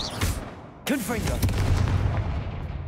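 A Confringo blasting spell cast in the Hogwarts Legacy video game gives a sudden loud burst followed by a crackling, rumbling explosion tail that lingers under faint game ambience.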